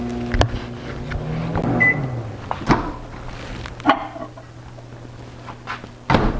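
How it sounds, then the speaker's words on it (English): A kitchen microwave oven warms a cup of milk, with a steady low hum, a rising beep and several sharp thunks and clicks from the door and cupboard, fairly loud and close. "I'm going to warm up this milk for just about 45 seconds to 1 minute in the microwave"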